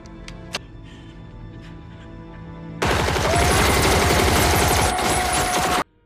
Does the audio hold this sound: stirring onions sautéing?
no